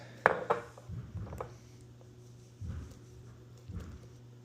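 Sourdough starter of whole wheat flour being mixed in a container, a sharp clack of the utensil followed by a few dull knocking and scraping strokes spaced out, quiet and close.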